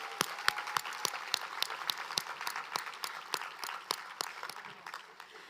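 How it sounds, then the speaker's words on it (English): A graduation audience at a Goodwill ceremony held at the Georgia Aquarium applauds for Muhammad, a steady run of distinct claps with some louder individual hits, filling the room and gradually thinning toward the end. "Let's give another round of applause for Muhammad."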